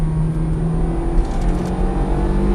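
Ferrari F430 Scuderia engine under throttle from inside the car, a loud, steady low drone with strong rumbling harmonics held throughout.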